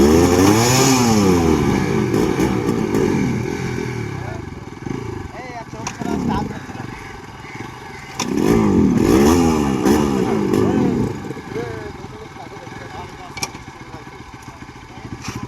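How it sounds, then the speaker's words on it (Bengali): A motorcycle engine damaged in a fall revs loudly and roughly in repeated surges, close by, with voices talking over it. "বাইকটা পড়ে যাওয়ার কারণে বাইকটা স্টার্ট নিচ্ছে না, পুরো ইঞ্জিন আওয়াজ শুনতে পাচ্ছ"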